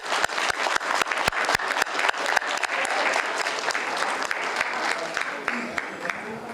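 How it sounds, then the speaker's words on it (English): A large crowd gives sustained applause for Ridgeview high school state champions at a school board meeting, with sharp individual claps popping out near the start before settling into steady, loud clapping. "Another round of applause for the Ridgeview State Champions."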